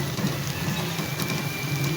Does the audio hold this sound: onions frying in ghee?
yes